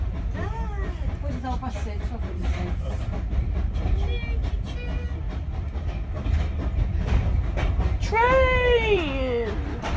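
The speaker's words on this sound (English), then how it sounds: "Train!" A train passes on a bank holiday Monday, giving a steady rumbling, clattering roar throughout, with a rising whistle-like tone near the end; people talk over it.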